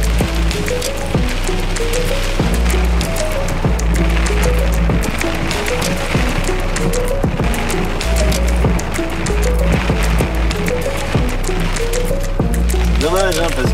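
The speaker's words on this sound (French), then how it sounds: "Et là c'est le déluge" A torrential downpour on the Mediterranean coast gives a dense, unbroken hiss of heavy rain, with a voice talking over it throughout.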